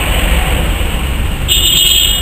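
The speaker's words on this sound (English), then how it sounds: "as you can hear, they like to beep their horns here" Steady street traffic noise in Chitre, Panama, with continuous high-pitched car-horn beeping, which gets louder and brighter partway through.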